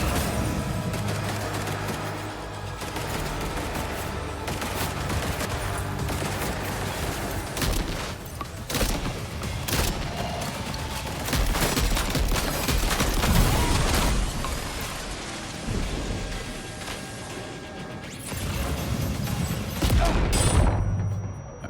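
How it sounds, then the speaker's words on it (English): Rapid bursts of gunfire and booming blasts from a grenade launcher in the video game Death Stranding 2, loud and dense throughout, with heavier explosive thumps toward the end. "I forgot I had my grenade launcher out."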